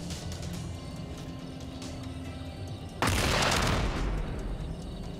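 Grenades from a Bliss launcher explode in Jagged Alliance: Rage, a sudden loud blast at about three seconds that roars on and slowly fades, following a stretch of steady busy combat noise.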